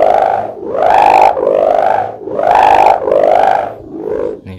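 An outdoor Javanese bamboo kite hummer (sendaren) drones with a loud, rising and falling moan in slow, even surges as the wind catches it, with no talking over it.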